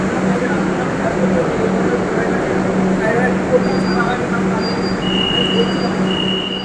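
A Kolkata metro train in motion gives a loud, steady rumble with faint high squeals from the wheels, while voices murmur in the background throughout.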